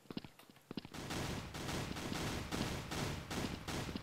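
Rapid bursts of gunfire rattle through a chaotic shootout in the shooter game Blood Strike, starting with a few sharp isolated shots, then turning into dense, continuous automatic fire that stays loud and close to the end.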